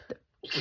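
A single short sneeze, fairly close, with a small intake of breath before the burst.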